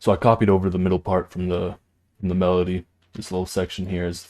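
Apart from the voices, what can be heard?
No distinct noise like a dog, phone or traffic.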